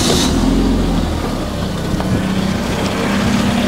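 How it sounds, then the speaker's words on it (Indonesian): A 2008 Toyota Yaris E automatic idles smoothly with a steady, even hum and no rough knocks, heard close and alone. "Dan ini suara mesinnya halus, standar, normal, tidak ada suara-suara kasar."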